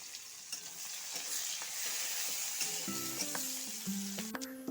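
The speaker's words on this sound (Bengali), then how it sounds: "রসুনের সাথে পেঁয়াজটা ভালো করে ভেজে নেব" Chopped onion and small pieces of garlic frying in a pan, a constant close sizzle with light stirring scrapes and a few clinks, no speech over it.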